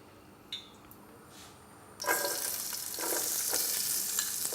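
Onions hit a little hot oil in a pan partway through, a sudden loud broadband sizzle that holds steady to the end after a quieter lead-in with a faint click.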